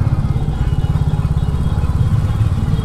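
A Royal Enfield Classic 350 rumbles underground with a deep, even thump-thump exhaust beat, close and steady throughout.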